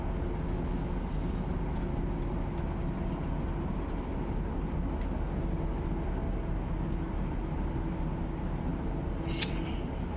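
A freight train in the Run8 train simulator game rolls at track speed under dynamic braking, a steady dense low rumble with constant engine drone and occasional faint high squeals, continuous and unchanging.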